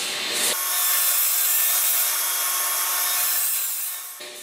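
Table saw ripping through wooden boards to square one side, a loud sustained whine as the blade cuts for about four seconds, starting and ending sharply with the motor running before and after.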